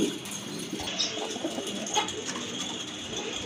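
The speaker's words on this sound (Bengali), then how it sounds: "এক জোড়া শেখর কবুতর" A pair of Shekhar pigeons in an uncommon Indonesian colour coo softly and repeatedly amid a noisy bird-filled background, faint and continuous with no talk.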